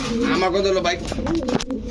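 Pigeons coo at a market selling breeds such as Giribaz, Danish, pouter and king pigeons, a throaty rolling cooing nearby, mixed with a person talking.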